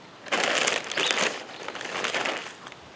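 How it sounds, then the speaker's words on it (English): Potting soil sprinkled by hand over bell pepper seeds in a container, heard as a close crumbly rustle in two or three short bursts over a few seconds, with no talking. "And just sprinkle some soil on it."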